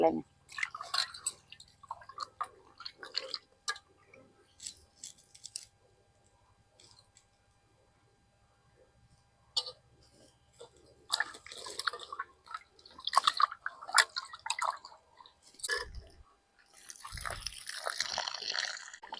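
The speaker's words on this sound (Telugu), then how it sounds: "నేను బోటిలో అయితే వాటర్ పోసేసుకున్నాను" Goat tripe being washed by hand in water, making squishing, dripping and splashing sounds in quiet, irregular bursts up close, with a voice speaking at times.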